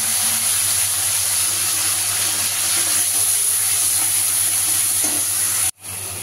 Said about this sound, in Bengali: পেঁয়াজ রসুন পেস্ট আর তেজপাতাটা দিয়ে দিচ্ছি।